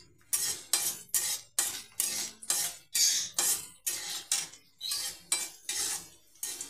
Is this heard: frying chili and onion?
yes